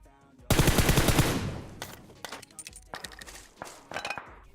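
Rapid gunfire bursts in the mobile battle royale game PUBG Mobile, a loud dense volley followed by scattered sharper shots and clinking impacts, with no one talking over it.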